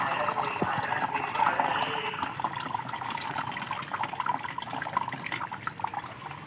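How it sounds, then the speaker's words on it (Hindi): Fresh clean water running and splashing steadily while something is rinsed during gold recovery from computer RAM, a soft, continuous trickle with small irregular spatters. "ये साफ पानी है, फ्रेश पानी, फ्रेश वाटर, इससे धो लेते हैं थोड़ा।"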